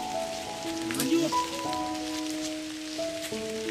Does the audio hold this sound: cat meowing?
no